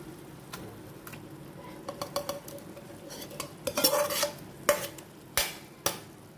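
A spoon stirs cooked dal into keerai kootu in a pan, giving irregular scraping clinks and knocks against the metal that grow louder and sharper toward the end, with no voices.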